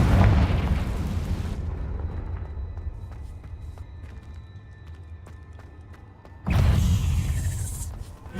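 Confringo blasting spell explosion in Hogwarts Legacy, a loud roaring burst that fades into a quieter tail with light ticking, then a second heavy boom erupts near the end, with no speech.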